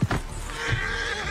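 A horse lets out a loud, close whinny that trails off, amid thuds and hoof-like knocks.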